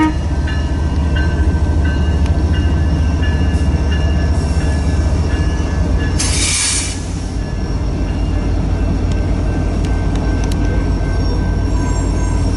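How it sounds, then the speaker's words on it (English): An eastbound freight train rolls past at Hobson Yard in Nebraska, a loud, close, continuous rumble of wheels and railcars that holds steady for the whole stretch, with a brief hissing burst midway. "Yep, this train's heading east, not going south down the St. Joe sub."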